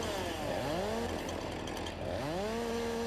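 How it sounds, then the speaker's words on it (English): A chainsaw in the video game Farming Simulator 19 revs up twice, rising and falling over a constant loud idle drone, with no voices. "My chainsaw doesn't work."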